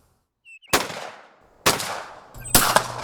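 Over-and-under Beretta shotguns fired at a historic shooting club dating to 1933, three sharp, loud blasts spaced about a second apart, each ringing out in a long fading echo across open ground.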